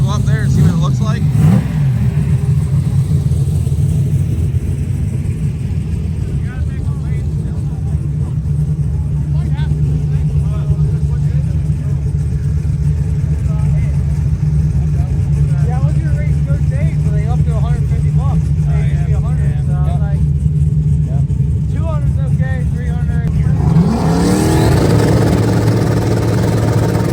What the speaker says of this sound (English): it sounds like cars are going down the track